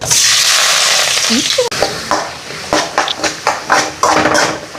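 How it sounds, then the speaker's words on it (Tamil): Mustard seeds, urad dal and fennel sizzle loudly in sesame oil with onion and chili, then a spoon scrapes and stirs the pan in a series of sharp, rhythmic knocks. "நல்லெண்ணெய் ஊற்றியிருக்கும் அதுக்குள்ளே கடுகு உளுந்த பருப்பு அதுக்கப்புறம் சோம்பு போட்டாச்சு அதுக்கப்புறம் பார்த்தீங்கன்னா வெங்காயம் மிளகா கருவேப்பிலை போட போகிறோம்"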